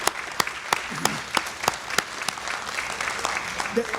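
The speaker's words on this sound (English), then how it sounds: "I ask you please to give them a round of applause" Audience applause at a university benefits town hall, a moderate wash of clapping with a few sharper claps standing out, steady through the short stretch and fairly close.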